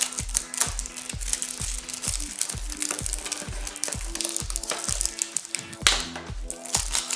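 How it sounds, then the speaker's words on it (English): Crackling and crunching of plastic Blu-ray packaging being broken open, close and fairly loud, with irregular snaps running over a steady rhythmic backing. "Sorry about the loud noise. For breaking the plastic."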